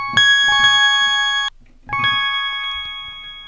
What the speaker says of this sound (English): Yeah, nice bells.